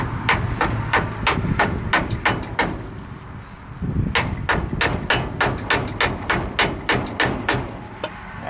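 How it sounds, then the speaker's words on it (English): A dead blow hammer strikes a part on a 1978 Ford F-150 Dana 44 front axle in two bursts of steady, evenly spaced, sharp thuds, close and loud with a short pause between runs. "if you got a good dead blow hammer or a good piece of hardwood"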